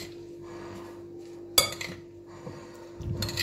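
Avocado salad is stirred in a bowl with soft scraping, then a sharp clink of a utensil against the dish and more faint stirring and clinks, close and quiet.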